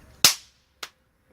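Two sharp hand claps ring out in the woods, the first loud with a long echoing tail like a firecracker, the second fainter a half second later, with quiet outdoor air between them.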